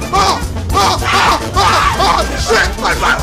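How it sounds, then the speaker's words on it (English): Screaming and yelling while playing Nico's Nextbots, with repeated loud shouted bursts in quick succession over a constant background rumble. "Stop screaming."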